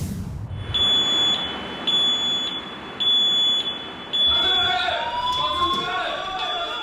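A gas leak safety warning alarm sounds in steady repeated electronic beeps, fairly loud and continuous through the stretch, with a second tonal sweep joining near the end over background noise.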